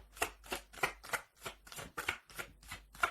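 Tarot cards are shuffled and drawn, heard up close as a quick, regular series of about ten crisp riffling snaps, each one separated by a short pause.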